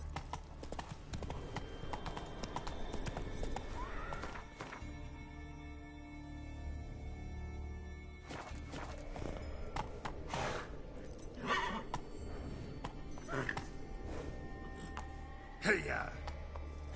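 Hooves of the horse Roach gallop in a steady clip-clop rhythm through The Witcher 3, with wind and game ambience around them and a few sharper thuds near the end.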